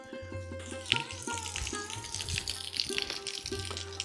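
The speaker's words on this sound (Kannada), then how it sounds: "ಹಾಗೆ ಇನ್ನೂ ಒಂದು ಶಬ್ದ ಕೇಳಿಸ್ತಾ ಇದೆ, ಅದು ನೀರಿನ ಶಬ್ದ." Water runs steadily from a pipe at a hilltop temple, a continuous trickling flow heard close by alongside other faint background sounds.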